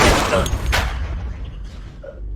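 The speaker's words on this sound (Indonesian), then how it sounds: "ternyata tembakan itu berasal dari Joseph, anggota perampok yang menembak rekan" A sharp gunshot in a film bursts out at the start, followed by a second crack and a fading rumble as the noise trails off.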